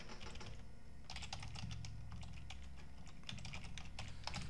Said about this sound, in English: That's if I can type properly.